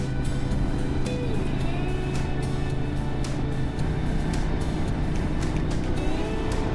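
A motorcycle engine drones steadily on a scenic, twisty road, close and loud with a constant rumble, pitch dipping and rising as gears change, wind noise throughout.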